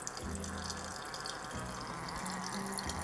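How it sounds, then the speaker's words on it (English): Red wine pours through a Vinturi aerator into a glass, giving a steady hissing, gurgling rush of liquid as air is drawn in, with low bubbling pulses underneath, close and continuous throughout. "You can hear that it's sucking in a lot of air, and it is making a lot of bubbles in my glass as well."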